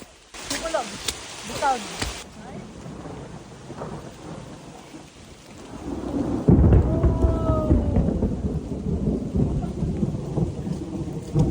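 Steady rain falls through a rainforest during a hike, with thunder rumbling amid continuous hiss and patter; a voice speaks briefly early on before the downpour swells louder in the second half.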